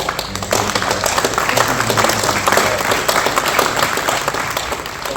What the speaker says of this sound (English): Please give one more round of applause for Dr. Beasley